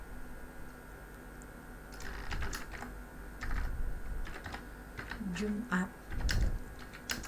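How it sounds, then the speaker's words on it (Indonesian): Keys clack on a computer keyboard in scattered, irregular bursts of clicks, close but quiet, with a person speaking Indonesian over part of it. "Sekarang kita ketikkan"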